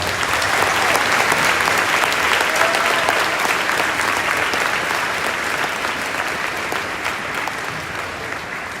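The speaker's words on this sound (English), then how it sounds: "How about a round of applause?" An audience at a school Veteran's Day assembly gives sustained, loud applause for Mr. Bell, a thick wash of clapping that holds steady and slowly tapers.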